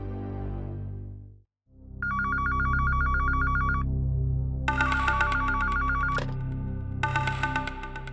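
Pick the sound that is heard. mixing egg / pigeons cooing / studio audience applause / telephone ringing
telephone ringing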